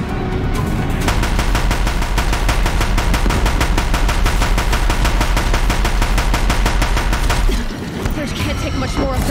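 Deathbringer machine guns in the video game Horizon fire a dense, rapid, sustained barrage at a bridge. The loud, continuous rattle runs for most of the stretch, then cuts off near the end, leaving rumbling battle noise.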